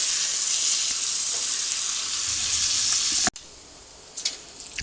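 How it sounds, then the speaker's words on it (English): Bacon fat rendering in a pan, a steady bright sizzle and crackle that cuts off abruptly partway through, followed by a quieter hiss with a few soft scrapes. "So my bacon has a good render from the fat on it"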